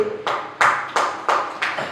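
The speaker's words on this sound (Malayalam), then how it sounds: "ഒന്ന് കൈയടിച്ച്" An audience clapping hands in unison, five sharp synchronized claps in an even rhythm, each ringing briefly in a hall, with no voices over them.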